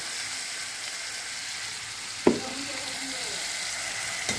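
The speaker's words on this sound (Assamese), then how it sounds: "মই এয়া মিক্সাৰখিনি ঢালি দিছোঁ।" Constant close sizzle of a ground spice paste frying in oil in a wok, broken by a single sharp scrape or clatter partway through.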